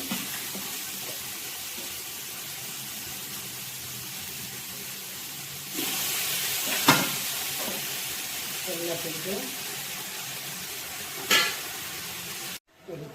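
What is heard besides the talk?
mutton frying and being stirred in a tempering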